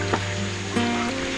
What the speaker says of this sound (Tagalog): Continuous yung flowing ng tubig dito.